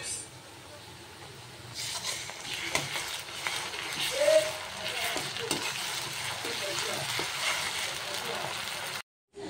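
Masala for mutton curry frying in a pan, a low sizzle that swells after a quiet start, with occasional spoon scrapes and knocks against the pan.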